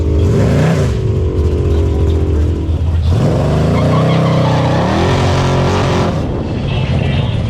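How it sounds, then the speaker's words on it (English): A 1968 Camaro race car on full slicks revs hard at a dragstrip, its engine roaring loud and close in rising and falling surges that climb in pitch, with a steady rumble underneath throughout. "We are running this 1968 Camaro on full slicks, and it's a monster."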